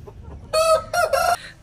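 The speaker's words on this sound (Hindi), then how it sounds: "प्योर मदारी मुर्गा" Madri Aseel rooster giving a short, close, loud call in three bursts, a drawn-out crow-like note followed by two quick cluck-like squawks, over quiet background.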